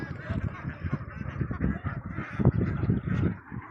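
A large flock of ducks, about 1,500 birds, calls on a farm. Dense overlapping honking and quacking runs continuously and fairly close, with no clear pauses.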